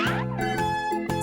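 Cat meowing in a cartoon-style children's learning piece, one drawn-out, tonal meow with rising and falling pitch, loud and close, followed by a brief chime.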